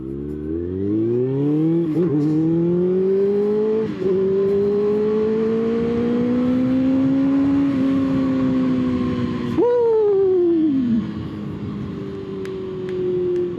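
A Kawasaki ZX-6R sport motorcycle engine revs and pulls hard under acceleration, its strong rising whine swelling with gear changes, close and loud throughout without talk.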